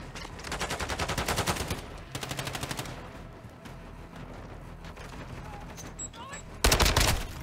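Call of Duty Modern Warfare II gunfire comes in two rapid automatic bursts, then a softer stretch of scattered game noise, and a final loud, close burst near the end.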